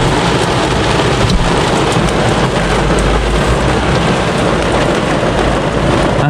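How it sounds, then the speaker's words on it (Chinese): Heavy rain pounds steadily on the roof of a Honda Jazz set up as a camper, a dense, loud roar of drops with low thunder rumbling underneath throughout, no talking. "又开始下暴雨了"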